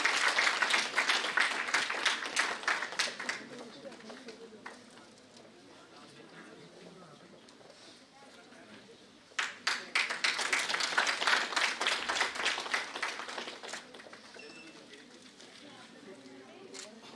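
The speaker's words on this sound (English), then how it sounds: "Can we please have a big round of applause, students?" A student audience at an Indo-Japan international conference claps in a dense burst of applause that fades and then swells again in a second loud round.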